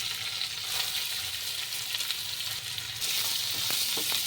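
Chopped onions with coriander stems fry in a pan with a steady close-up sizzle, a little stirring near the end and no voices.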